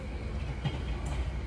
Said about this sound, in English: So I'm settling and the train is moving.